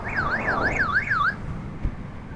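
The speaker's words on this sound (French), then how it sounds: "Là, elle vient de biper parce que j'ai été trop vite, je pense." The S19 vehicle sounds a speed warning: a warbling electronic tone sweeps up and down several times for just over a second, fairly clear over low road and motion noise, then stops.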